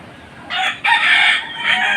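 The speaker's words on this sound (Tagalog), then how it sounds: "Ang ingay ng manok" A rooster crows loudly and close by in a drawn-out call, with a shorter crow following, on a windy day; no one speaks.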